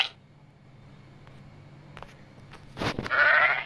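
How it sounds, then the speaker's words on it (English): A single sheep bleat rings out near the end, loud and close, after a few seconds of quiet background. "Sheep."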